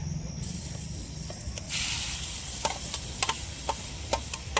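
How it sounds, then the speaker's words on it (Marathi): Salted raw mango mixture drops into hot oil in a home kitchen and sizzles, a steady frying hiss that jumps louder partway through, with sharp scraping clicks of a spoon stirring near the end. "आपण हे 5-7 मिनिटं जे भिजत ठेवलं होतं मिठातनी कच्च्या आंब्याचं मिश्रण, हे तेलात टाकून घेऊ"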